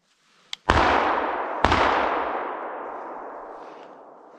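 Two sharp gunshots during a forest grouse hunt in Salla, Finland, the second about a second after the first, each followed by a long fading echo outdoors.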